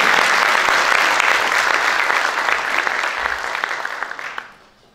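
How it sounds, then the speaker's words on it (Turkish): An audience applauds the composer at a concert of Turkish classical music performed with a choir, with loud sustained clapping that gradually thins and fades away near the end. "Alkışlar bestecimiz Turhan Taşan'a"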